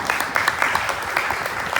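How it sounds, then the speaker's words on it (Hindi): Audience clapping at the closing day of a Shrimad Bhagavat Katha gathering, a short burst of dense, steady applause from a crowd, moderately loud and continuous, with some voices mixed faintly underneath. "उनके लिए भी जोरदार ताली"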